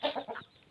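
A fighting rooster clucks in a few quick, close, fairly loud bursts, then falls quiet within a second, with no one speaking.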